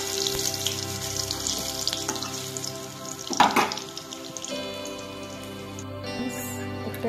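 Raw banana kofta balls sizzle in hot oil with a steady, dense crackle throughout, interrupted by a brief louder clatter midway.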